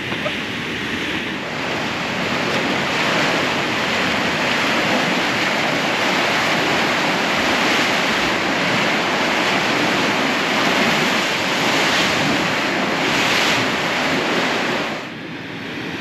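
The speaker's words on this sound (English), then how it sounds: "lot more spectacular with the waves earlier. It's still obviously churning, but not quite as crazy as it is at fully high tide" Ocean waves churn against the rocky coast at Cape Perpetua, a steady roaring wash of surf with gusting wind that holds loud and continuous throughout, easing slightly at the very end.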